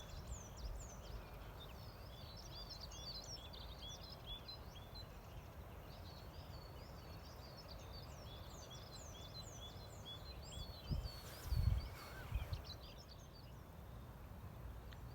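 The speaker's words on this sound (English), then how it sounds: "I'll just keep quiet for a moment so you can hear the birds" Birds singing outdoors on a heathland on a sunny day, repeated chirping phrases faint in the distance over a low background hum, with a few louder low thumps near the end.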